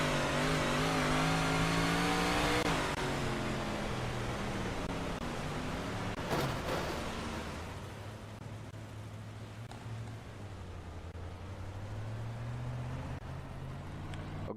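An onboard race car engine from a DIRTcar dirt-track racing game drones steadily, swelling and easing as the car accelerates and lifts, close and continuous with no talk.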